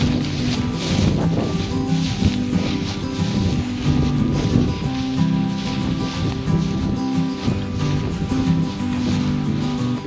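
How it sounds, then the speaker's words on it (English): Strong wind buffets outdoors in Mechuka, Arunachal Pradesh, as a continuous loud roaring, rustling gust noise with irregular surges, close to the microphone and without clear speech. "It's very windy."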